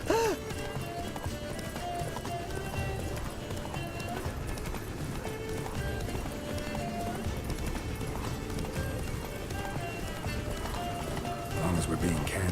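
Hooves of Roach, Geralt's horse in The Witcher 3 video game, pound in a steady galloping clip-clop that runs throughout, mixed with game ambience and voices.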